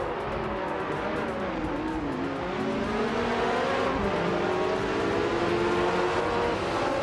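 Vintage race cars including a 1983 Sauber C7 roar loudly through the start at Circuit Assen Autosport in a racing video game, their engines droning and shifting pitch continuously with no talking.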